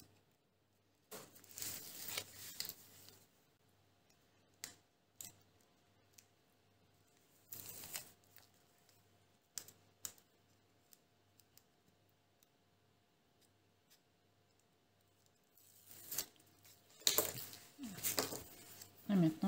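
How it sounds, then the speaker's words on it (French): Backing strips are peeled off double-sided tape while assembling a handmade autumn-themed paper album, giving short, dry crackling rips in three separate bursts with quiet gaps between. "j'enlève le double face"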